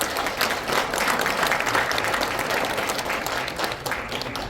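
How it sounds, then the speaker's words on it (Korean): Sustained applause from a large audience opens a civic groups' New Year rally, a thick, even wash of clapping that holds at a steady level from start to finish. "박수 한번 주십시오"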